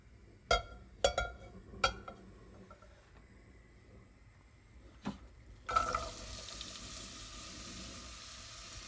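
Oil poured into a heated cast-iron cocotte sizzles, a sudden bright hiss that holds steady after a few sharp clanks and knocks of utensils and the pot.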